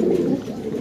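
Red Budapest pigeons give a brief, close, low cooing murmur in a single short burst.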